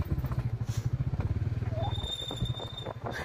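A motorcycle engine runs close by with a rapid, pulsing thump, steady at first and then shifting and roughening, on a riverside road in North Sikkim on the way to Lachen.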